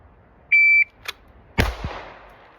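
At an outdoor range a shot timer gives a short electronic beep, and a moment later a single loud, close pistol shot cracks and rings out with a brief echo.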